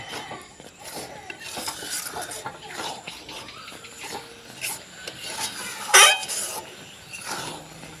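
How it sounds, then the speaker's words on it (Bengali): Moong dal and ash gourd sautéed in a pan, soft irregular scraping and stirring with a sharp clatter about two-thirds through, low voices in the background. "ডাল আর চাল কুমড়োটাকে খুব ভালোভাবে কষিয়ে নিলাম"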